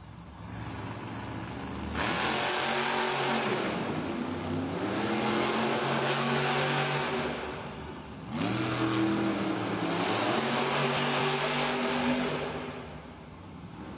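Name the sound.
monster truck engines revving, El Toro Loco versus Gravedigger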